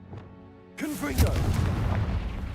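A Confringo fire-blast spell goes off in Hogwarts Legacy, a sudden loud burst that rolls into a rumbling, crackling roar lasting a couple of seconds, right after a brief spoken word.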